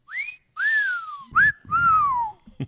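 A person whistling a few clear rising and falling notes in short phrases separated by brief pauses, close and fairly quiet, with small clicks and breathy noises between phrases.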